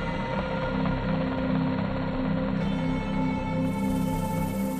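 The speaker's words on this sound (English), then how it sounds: "soon board an HS-60 Seahawk helicopter and leave Nimitz." An HS-60 Seahawk helicopter departing the aircraft carrier Nimitz gives a steady, loud rotor and turbine roar with a faint rhythmic chop, unbroken and without voices.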